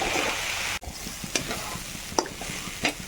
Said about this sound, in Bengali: সব কিছু দিয়ে দেওয়ার পর খুব ভালোভাবে মিশিয়ে নেব, আর এখানে 2 মিনিটের মতো ভেজে নেব।